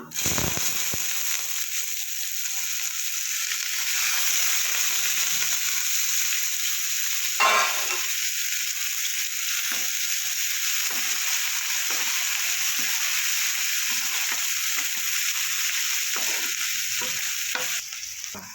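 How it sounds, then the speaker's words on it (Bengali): Steady, loud sizzling of chopped onions frying in hot oil with dried red chili and cumin seeds fills the clip, with occasional scraping stirs and no talking. "পেঁয়াজগুলো কিছুটা ভাজা হয়েছে"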